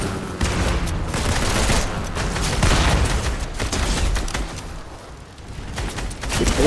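Sustained gunfire from the video game Fortnite, with dense, rapid shots and booms filling the whole stretch at steady loudness, no talking over it.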